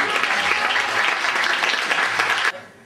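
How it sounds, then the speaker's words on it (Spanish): Studio audience at a Rodolfo Rodríguez comedy performance applauding loudly, a dense sustained burst of clapping that cuts off abruptly near the end. "el auditorio aplaude bien fuerte"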